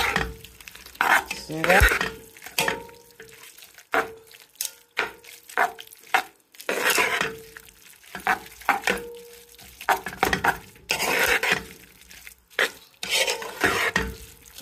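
Cooked rice noodles being stirred and tossed in a pan, with a run of soft scraping, clinking and light sizzling strokes at close range, and a voice speaking briefly over the mixing.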